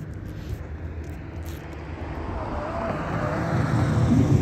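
A car approaching and passing on a street during a dog walk, rising steadily from a low rumble to a loud close pass, with faint outdoor background.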